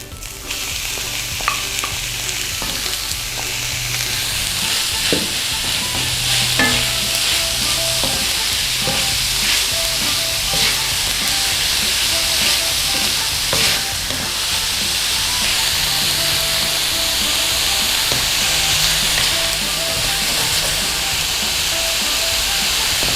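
Minced meat sizzling loudly in a hot pan for bolognese, a steady dense frying hiss with occasional stirring scrapes and clacks, close and continuous with no talk.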